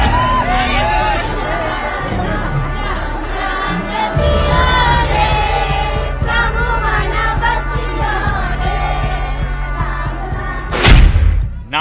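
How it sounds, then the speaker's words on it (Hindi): A crowd of thousands chants slogans and cheers for Baba Bageshwar in Nepal, making a loud, continuous swell of massed voices with a sharp thud near the end. "नारे, जयकारे और हजारों लोगों की भीड़,"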